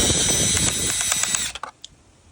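A pretty large drill bit grinds through a rivet on a 2023 Husqvarna FE350s motorcycle pedal, a steady loud whine with ratcheting chatter that breaks off abruptly into a few clanks.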